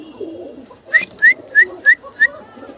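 A pair of pigeons on a farm gives five short, even coos about a third of a second apart, close and clear over a low murmur of background noise.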